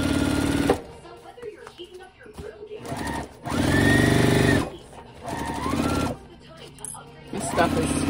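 Short bursts of a sewing machine back stitching slippery lining fabric on a car trash bag, close and fairly loud, alternating with a person talking between the runs.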